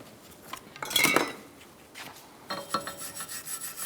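Wire brush scrubbing rust and buildup off the rear brake hub of a 2012-2018 Ford Focus, heard as scratchy rasping bursts in a few strokes, fairly close and moderately loud, with no talking.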